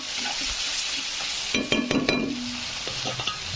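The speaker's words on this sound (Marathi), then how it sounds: "लाल तिखट टाकल्यानंतर असं हलवून घ्यायचं आहे आपल्याला" Turmeric and red chili powder stirred in a sizzling pan with oil, a steady fry broken by a cluster of spoon scrapes and clinks near the middle, then lighter taps over the continuing sizzle.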